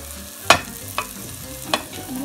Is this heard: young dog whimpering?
no